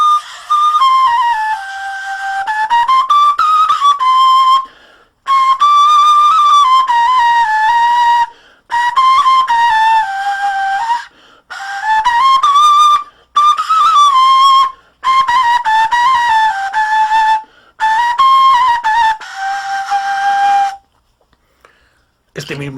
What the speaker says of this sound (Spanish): es una flauta, un pito travesero de hueso de buitre.